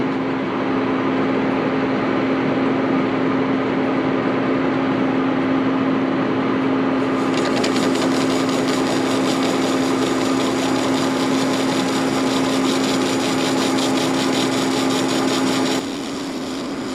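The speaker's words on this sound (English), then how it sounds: "we're going to have a first cut here with the ceramic bit cutting the chrome rod" Steady metal-cutting drone of a lathe turning a chrome hydraulic cylinder rod with a ceramic bit, for a track-type tractor rebuild, continuous and close with a strong steady hum, brighter hiss joining midway, no talk.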